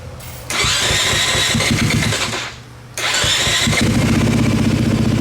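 An engine cranks and catches, runs briefly, dips, then fires up again and settles into a loud, steady close idle with no talking.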